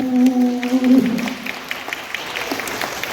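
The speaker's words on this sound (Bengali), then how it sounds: "শুধু হাততালি চাই এক রাউন্ড" Audience applause at a children's theatre festival: a dense patter of clapping rises after a brief tonal voice-like phrase, then carries on steadily at moderate level to the end.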